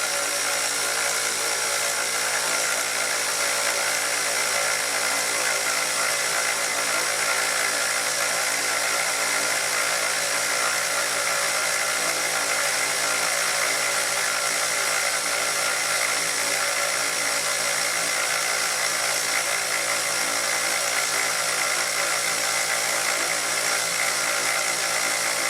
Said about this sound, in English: Fine milling.